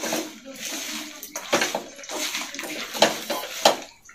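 Water is poured into a bowl of food being kneaded and mixed by hand in a home kitchen, giving intermittent splashy, squelching bursts and sloshes that come close and fairly loud over a few seconds.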